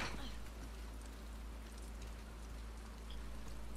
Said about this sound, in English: I said it's raining.